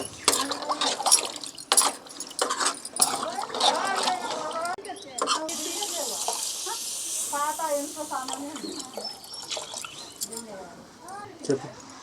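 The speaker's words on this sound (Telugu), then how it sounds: "ఇట్లా ఆయిల్ సపరేట్ అయిన తర్వాత వాటర్ పోసుకోవాలి" Water is poured into sizzling mutton curry masala, giving gurgling, bubbling hiss and liquid sounds that stay mostly under a person's ongoing talk.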